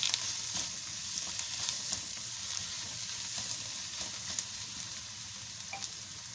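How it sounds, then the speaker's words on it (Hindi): Ground garlic frying in a pan with onion for a chicken kofta curry, a steady close hiss and crackle of sizzling oil with occasional small pops and stirring, no voices. "लहसुन भी हमारा थोड़ा सा पक गया"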